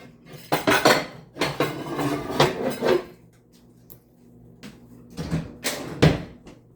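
Clattering pots and pans being shifted about, metal knocks and clinks in irregular bursts separated by quiet gaps, close by.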